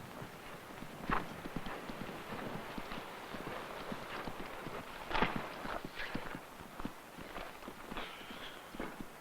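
Horse hooves clip-clopping on a hard surface in a steady, uneven walking rhythm, fairly close and moderately quiet, with a few sharper knocks and faint background noise and no talk.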